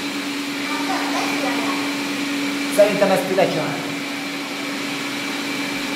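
Three Xiaomi robot vacuum cleaners run together in one room, a steady loud whirring motor drone throughout, with someone speaking briefly over it.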